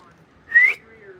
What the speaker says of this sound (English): I'm going to whistle.